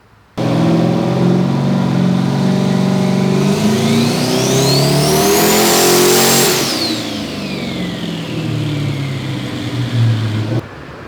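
A Ford Fairmont engine on a dyno sweeps up through the revs to a loud high-pitched peak with a rising turbo whine, then winds back down and idles before cutting off, with no talk over it.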